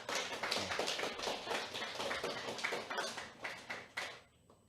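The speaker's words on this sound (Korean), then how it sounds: "수고하시고 오신 분들에 대한 우리 감사의 박수를 한번 보내주십시오" An audience at a worship service applauds in thanks, a modest, somewhat rhythmic patter of clapping hands that pulses unevenly and then stops.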